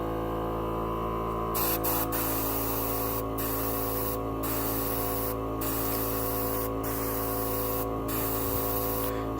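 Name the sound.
dual action airbrush spraying paint on Gundam kit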